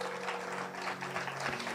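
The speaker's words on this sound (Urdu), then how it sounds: "آئیں صلیب کے لیے زوردار تالیاں بجائیں گے." A church congregation claps enthusiastically at a Friday worship service, producing dense, steady applause from many hands that runs evenly throughout.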